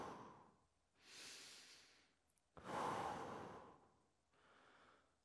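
Slow, deep yoga breaths during a seated hip-opening stretch for the inner thighs: a long airy inhale and exhale, then a louder breath cycle, and a softer one at the end, close and unhurried with no talking.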